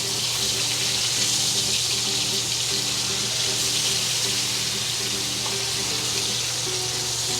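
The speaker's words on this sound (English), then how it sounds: "you can see we're sizzling away here" Steady sizzling of chicken fried steak frying in a pan, a constant hissing crackle with a low hum underneath, no voices.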